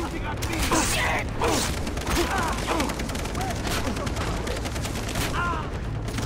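Chaotic gunfire in the first-person shooter Far Cry 3: dense overlapping shots and bursts from several weapons, loud and continuous throughout, with brief game voices mixed in.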